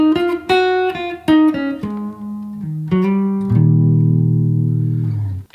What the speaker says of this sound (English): playing a single note blues run